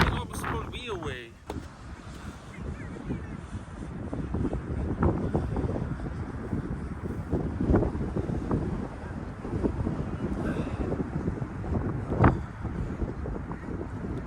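Strong wind buffets the microphone throughout a DJI Mavic 3 drone flight, a loud continuous low roar with gusty surges and a sharp peak near the end, while a voice talks intermittently over it.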